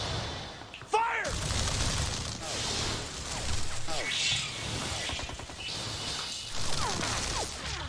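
Gunfire volley in the Hellsing Ultimate anime: a sharp crack opens a dense, sustained fusillade of rapid shots and mechanical clatter, loud and continuous, with a voice speaking in the background.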